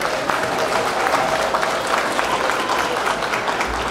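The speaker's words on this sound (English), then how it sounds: "Can we give our candidates a round of applause?" A mayoral forum crowd in Selma, Alabama, claps in a dense, even wash of applause that holds at a constant level throughout, with faint crowd murmur mixed in.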